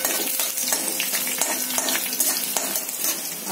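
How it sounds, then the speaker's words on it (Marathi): Green chillies with curry leaves sizzle in hot oil, a bright continuous crackling hiss with small pops, close and steady, with no one talking. "कढीपत्ता फ्राय झाल्यावर आपण मिरच्या टाकायच्या। फ्राय होऊन द्यायचं"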